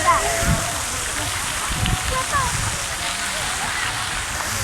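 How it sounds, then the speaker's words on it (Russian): Water spraying high from a fountain on a city square in Ulan Bator, a steady hiss and patter of falling spray under close talk throughout. "Представляете, на площади поставили фонтан."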